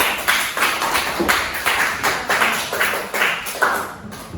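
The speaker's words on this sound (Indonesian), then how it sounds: "Beri tepuk tangan untuk kalian semua." Students in a classroom clapping in a steady rhythm, sharp evenly spaced claps about five per second, close and fairly loud, fading at the end.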